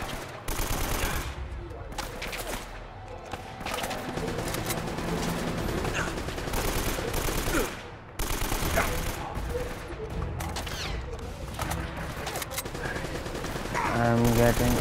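Dense, continuous gunfire from the Uncharted: Drake's Fortune video game: rapid bursts and shots packed together almost without pause for the whole stretch, loud and close, mixed with game sound and music.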